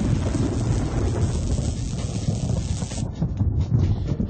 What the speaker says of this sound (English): we see lightning before we hear thunder